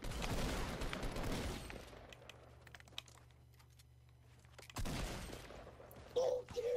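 Fortnite Battle Royale gunfire on Xbox One comes in two loud rattling bursts of shots, one at the start and one near the end, with a quieter stretch between them.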